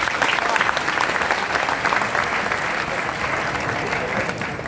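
An audience at a Jain religious gathering on Pavagarh Aandolan day bursts into loud, sustained applause, dense clapping filling the hall throughout.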